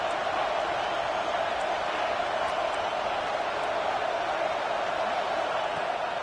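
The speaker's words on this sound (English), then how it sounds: "Here comes the noise from this big crowd in Happy Valley on third down." A large stadium crowd at a college football game in Happy Valley roars in a loud, steady wash of noise that holds without a break from start to finish.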